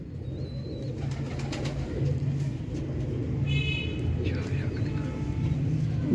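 Sialkoti pigeons cooing on a rooftop, soft repeated coos under someone talking and a steady hum of background traffic.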